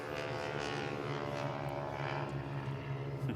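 A Ford Trimotor's propeller engines drone steadily and loudly, a continuous rumbling hum that holds close and unbroken with no talk over it.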